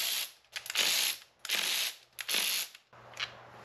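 A ratchet wrench clicks in quick bursts, loosening 10 mm bolts on the cylinder head of a 2004-2009 Toyota Prius engine during a rebuild; several close, loud ratcheting runs separated by short pauses, with no talking.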